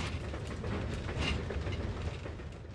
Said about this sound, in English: This train is a runaway.